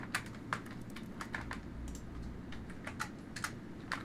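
Rapid, uneven keystrokes on a computer keyboard entering a console command while playing Fallout: New Vegas, close and crisp with a few heavier key presses standing out over a low background hum.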